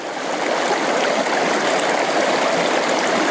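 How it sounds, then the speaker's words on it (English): Water in a small stream runs steadily over stones, a dense, constant rushing and splashing babble heard close and alone with no voices. "the stones and the flowing water"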